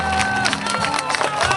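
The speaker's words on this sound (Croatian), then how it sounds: "Jedan veliki aplauz vas molimo." An outdoor crowd at a parachuting display claps and cheers as parachutists land, a brief, lively burst of applause mixed with voices.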